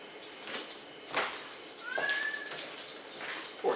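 A cat gives a single drawn-out meow, with quieter background sounds around it, and there is no speech.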